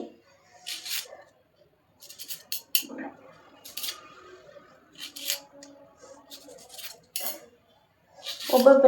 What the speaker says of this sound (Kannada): ಈಗ ಈ ಉಳ್ಳಾಗಡ್ಡಿನೆಲ್ಲ ಇವು ಉಳ್ಳಾಗಡ್ಡೆ ಎಲ್ಲ ಹೆಂಚ್ಕೊಂಡ್ಬಿಡ್ತೀನಿ